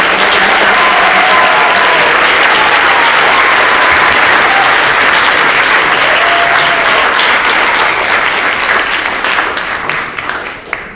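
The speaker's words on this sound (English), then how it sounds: "Ladies and gentlemen, please give a round of applause to the newly inducted members" An awards-night audience applauds newly inducted members: loud, dense, sustained clapping from a large crowd that holds steady, then tapers off near the end.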